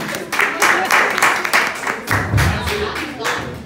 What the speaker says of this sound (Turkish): Ya alkış alalım